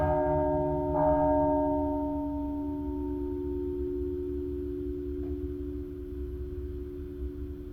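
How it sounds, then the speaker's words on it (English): A church bell tolls with a sustained, ringing hum that slowly decays, a second soft strike entering early and another faint one later, all alone without voices. "The new video, The Bell Tolls Up in the Waves."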